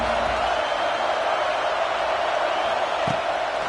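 Steady stadium crowd roar in a football video game, a broad continuous wash of distant voices with no break, and one brief low thump near the end.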